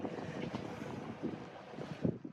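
Wind gusts buffet a sailboat at anchor, a steady low rumble of wind against the microphone with slight swells in strength.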